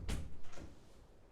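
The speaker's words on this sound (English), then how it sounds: "Let me go ahead and open the door real quick." A door swinging open indoors, a short close knock and creak followed by a softer second thud, brief and alone.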